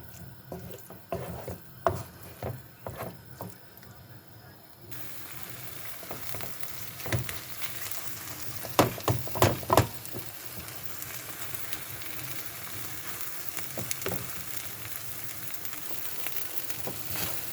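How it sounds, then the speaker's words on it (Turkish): Batter fries and sizzles in a pan while a utensil scrapes and stirs it, with irregular clattering knocks over a steady hiss that grows fuller partway through. "Karıştırıp bu bulamacı kızarana kadar pişireceğiz."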